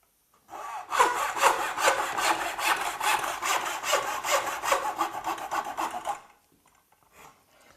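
A hand saw makes a second cut through timber while building a model railway, about twenty rapid rhythmic back-and-forth strokes, loud and close, then stopping, with no voices.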